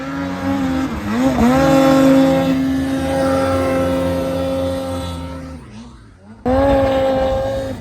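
A 154 turbo snowmobile engine powering up a steep slope, a loud whining roar that rises and wavers in pitch, dips briefly, then surges back.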